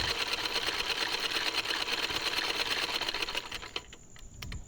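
Sewing machine running steadily as it stitches the hem (poncha) of a salwar, a loud continuous mechanical whir that slows and breaks into a few separate stitch clicks near the end, with no talking.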